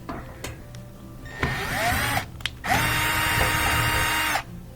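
Power drill whirring in sustained bursts while backing screws out of the bottom panel of a Whirlpool front-load washer, loud and close, with short pauses and clicks between runs.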